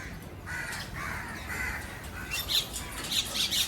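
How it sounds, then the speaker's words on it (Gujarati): Crows and other birds caw and squawk near a home temple, repeated harsh calls at moderate distance over a soft background hum with no talking. "ધીરે ધીરે પક્ષી આવે."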